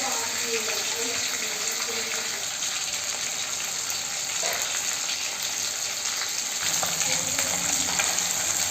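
Whole tilapia fish fries in hot oil, a continuous soft crackling sizzle at moderate distance that carries on steadily throughout, with no voices.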